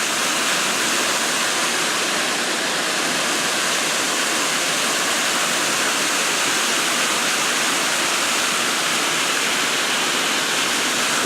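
Lost Creek Falls pours in a steady, loud rush of falling water on an autumn hike, a continuous broadband roar with no voices over it.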